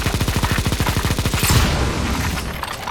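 Rapid automatic gunfire in the CSGO Zombie Escape map ze_avalanche_reboot_k, a loud, fast burst of evenly spaced shots for about a second and a half, then a booming blast fading into a rumbling tail.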